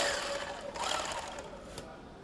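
A sewing machine runs a double seam on a heavy sack, giving a steady, dense mechanical whir and rattle that holds close and fairly loud throughout, with no one talking over it.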